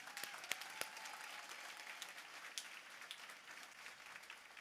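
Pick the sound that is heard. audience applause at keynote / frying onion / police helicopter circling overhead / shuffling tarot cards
audience applause at keynote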